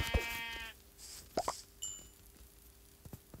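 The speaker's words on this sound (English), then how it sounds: "There's another sheeps!" A sheep bleats once at the start in the Minecraft video game, followed by faint plops, a few game clicks and a soft tone over quiet background.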